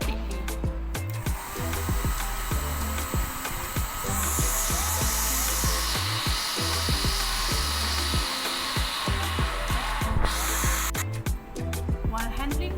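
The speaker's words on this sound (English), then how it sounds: "Using hairdryer, let the drop dry completely." A hairdryer blows steadily to dry a drop of chlorophyll extract on chromatography paper during a photosynthesis lab experiment. The airy roar stays continuous and fairly close, with slight shifts in tone partway through and no speech.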